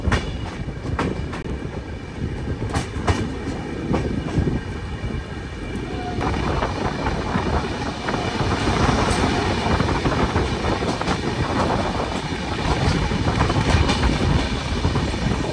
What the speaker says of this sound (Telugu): మన ఆపోజిట్ ట్రాక్ లో ఒక ట్రైన్ అయితే వస్తుంది.